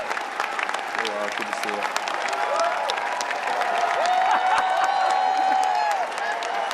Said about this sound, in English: Wow, listen to that applause.